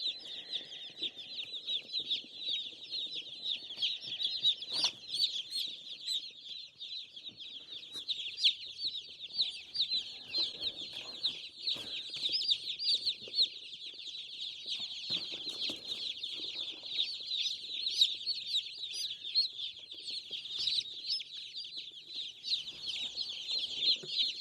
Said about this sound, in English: Let's go get these chicks in.